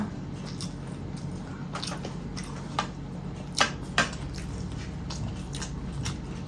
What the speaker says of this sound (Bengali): চলো ফার্স্টে উচ্ছেটা খাই